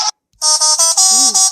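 Telolet bus horn melody played from a phone app: a short blast, a brief gap, then a loud run of pulsing multi-tone horn notes with a warbling, sliding pitch near the end, no talking.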